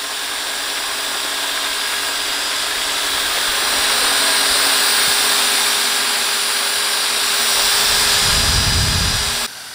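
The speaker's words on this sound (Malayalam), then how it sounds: "നല്ലൊരു RPMൽ നമ്മുടെ ആ ഡ്രില്ല് കറങ്ങുന്നത്" An electric drill motor spins at high speed driving a homemade water pump, giving a steady, loud whine with rushing water. It holds level throughout and shifts in tone just before cutting off at the end. No voices.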